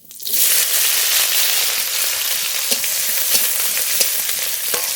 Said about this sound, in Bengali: রসুন একটু ভাজা ভাজা করে নেব